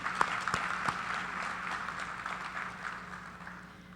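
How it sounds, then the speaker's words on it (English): An audience at a high school leadership awards ceremony applauds, a soft, steady patter of many hands heard from some distance and slowly fading. "So a round of applause for him."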